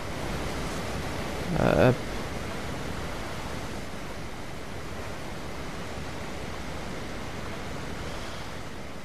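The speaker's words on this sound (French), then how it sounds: "il y a le son des cascades qui est très fort" Loud, steady roar of waterfalls in the video game Ark Valguero fills the whole stretch as a constant broadband rush, with a brief spoken word over it near the start.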